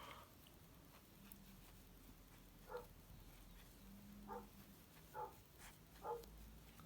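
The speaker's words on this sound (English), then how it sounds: "Oh, my doggy's barking." A pet dog barks several times, the short barks spaced over a few seconds at a moderate distance in a quiet indoor room.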